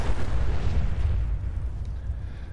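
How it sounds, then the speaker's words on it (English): A car explodes in the Fallout 4 video game with a heavy, rumbling boom that stays loud at first and slowly tails off over a couple of seconds, with no talking. "Here, let's blow up a car."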